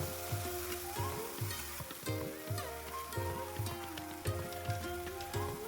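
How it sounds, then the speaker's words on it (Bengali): Chital fish frying with ground spice paste makes a soft, continuous sizzle and stirring sounds, heard under a repeating musical backing. "আগে থেকে বাটা মশলাগুলোকে দিয়ে দেব আবারও কিছু সময়ের জন্য ভালোভাবে কষিয়ে নেব"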